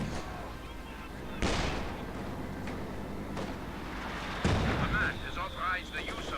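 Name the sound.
grenade explosions in the video game Company of Heroes 2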